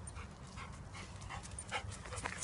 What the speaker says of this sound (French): Tu viens, mon chien.